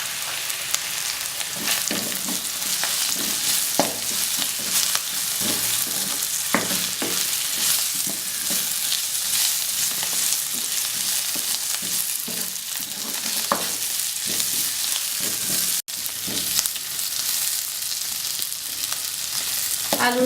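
Potatoes fry with browned onion and turmeric in a pan, a dense, loud, steady sizzle lasting throughout with occasional soft clinks of stirring, close up and without voices.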